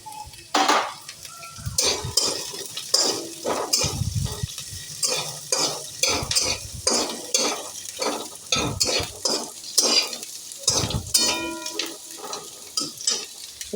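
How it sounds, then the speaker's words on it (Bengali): Chopped green chillies and beans are stir-fried in a pan for a flattened-rice pulao. Loud, close, rhythmic scraping strokes of a spatula come over a steady sizzle, with metallic clinks and no talking. "এবার লঙ্কাটাও এর মধ্যে অ্যাড করে দিচ্ছি,"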